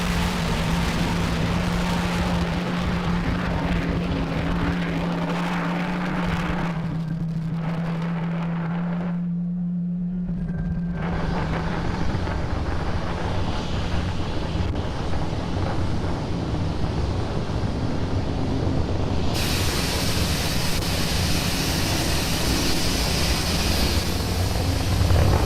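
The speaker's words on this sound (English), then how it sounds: "As you can see, Falcon 9 has had a successful liftoff from pad 39A." Falcon 9 rocket engines roar after liftoff from pad 39A, a dense, steady rumbling thunder with a low tonal hum, heard continuously at a distance.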